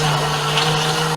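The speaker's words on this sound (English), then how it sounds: "We're going to toss this right in here into the drink master" A drink master mixer spins a tropical rum cocktail, giving a steady, loud motor whir with a humming tone that runs without a break and then cuts off abruptly at the end.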